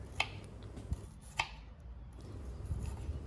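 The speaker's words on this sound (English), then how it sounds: "now slice the shallots" Shallots sliced with a knife for nasi lemak, three crisp, separate chopping taps on a board spread over the first second and a half, then quieter rustling, close and faint.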